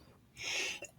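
A single short sneeze bursts out close and sharp, a brief hissing rush following a moment of quiet, during a casual sports talk show recording.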